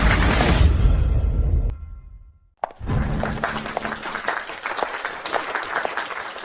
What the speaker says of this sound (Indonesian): Mohon berikan dia tepuk tangan.